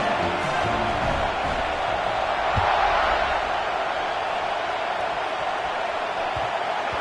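A stadium crowd at a college football game featuring LSU gives a sustained, broad roar that stays steady before the kickoff, with a commentator's voice faintly audible underneath.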